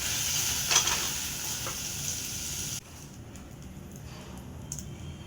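Paneer sautéed in a wok gives a close, soft sizzle with stirring scrapes that drops abruptly partway through to a quieter hiss with faint clinks.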